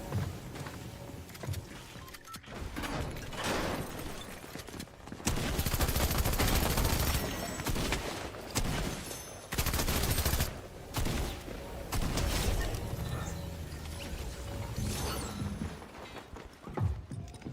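Attack shotgun fire in a shooter video game, coming as several loud, sustained bursts of blasts separated by quieter gaps of game noise and mechanical clatter across the stretch.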